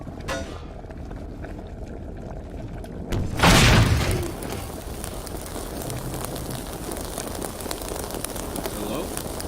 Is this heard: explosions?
yes